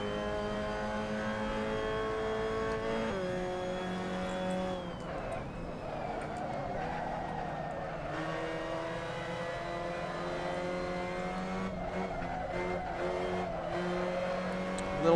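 Mazda Miata MX-5 Cup race car in a racing sim video game, its engine droning steadily with pitch swinging up and down as the throttle is worked, brief tire squeal and faint talk underneath.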